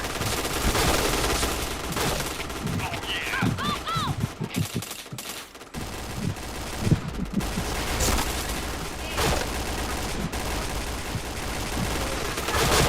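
Rapid bursts of automatic gunfire in the online shooter Point Blank, dense overlapping volleys with a brief lull midway, loud and close, with faint game sounds mixed in.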